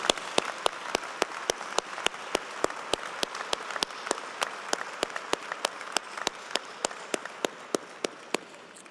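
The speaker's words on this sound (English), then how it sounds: "give a round of applause to the graduates who are" A commencement audience applauds the graduates in a steady, even wash of crowd clapping, with one loud, close clapper striking sharp claps in a regular rhythm above it, slowly fading toward the end.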